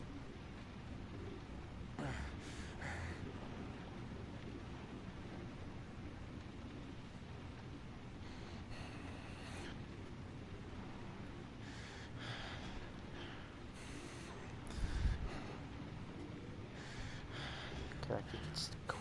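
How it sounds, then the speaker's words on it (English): Heavy, ragged breathing and gasps from a character in the video game Heavy Rain, close and steady throughout, with a sharper gasp near the middle over a soft rain-like background. "if you could just quit the heavy breathing, that would make this less creepy"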